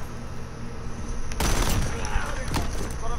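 Gunfire in Call of Duty: Modern Warfare: a sudden loud burst of shots breaks over steady background game noise, then trails off with a few scattered cracks.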